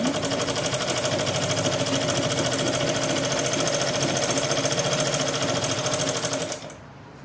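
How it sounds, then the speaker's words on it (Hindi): A sewing machine stitches the side seam of a cotton suit, running in a rapid, steady mechanical chatter close by for several seconds before stopping abruptly. "अभी पहले मैं एक बार साइड की सिलाई लगा रही हूँ।"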